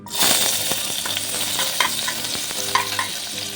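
Spices crackle and sizzle in hot oil for a prawn and raw mango curry, with scraping stirring noises and small pops throughout.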